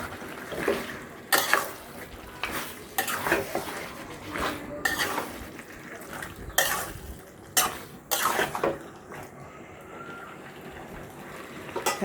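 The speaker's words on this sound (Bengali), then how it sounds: "ভালো করে মিশিয়ে নিচ্ছি।" A metal spoon scrapes and clanks against a pan while layer chicken curry is stirred, giving repeated irregular bursts of clatter over a faint background sizzle, close by with no talk.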